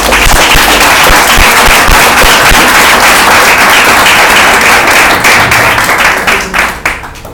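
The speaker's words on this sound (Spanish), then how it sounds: "¿Puedes dar un aplauso?" Church congregation applauding loudly, dense sustained clapping that fills the room, then thins out and fades near the end.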